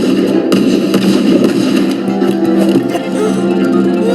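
A cartoon bomb goes off in an animation versus coding battle, a loud, dense blast of crackling and thuds that stays heavy for about four seconds with scattered sharp pops and no speech.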